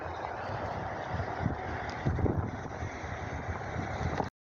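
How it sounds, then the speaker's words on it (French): Strong wind from a supercell thunderstorm near Bordeaux buffets the microphone, a loud continuous roar with gusty surges before it cuts off abruptly. "Ça va se calmer le vent après."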